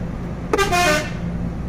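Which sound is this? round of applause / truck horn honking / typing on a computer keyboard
truck horn honking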